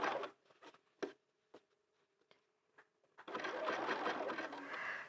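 Sewing machine stitching a hat, joining the brim: a few short isolated stitch clicks and taps, then a sustained, close run of continuous stitching in the last two seconds.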